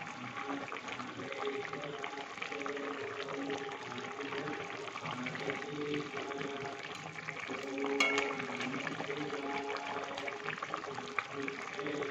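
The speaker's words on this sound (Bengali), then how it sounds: "এবার খুব ভালো করে ঝোলটা ফুটে গেছে" Fish curry gravy with potatoes and cumin paste bubbling in a pan, a steady dense simmering hiss with soft liquid bubbling throughout, moderately loud and continuous.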